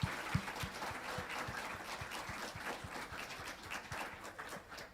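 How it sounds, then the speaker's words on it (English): An audience claps for performers at a world music event, a fairly quiet, steady patter of many hands with individual claps standing out, no voices on top. "Let's give them a round of applause."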